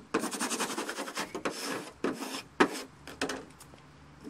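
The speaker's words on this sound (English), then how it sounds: "give it a good rubbing with a squeegee" Squeegee rubbed firmly across the paper backing of a vinyl decal laid face down, giving a series of close, raspy scraping strokes in uneven bursts.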